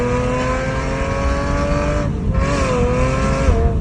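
A Porsche accelerating, played back from a phone video: a sustained, steady engine roar with rising harmonic pitch as it revs, brief dip mid-way then climbing again, close and loud with no talk.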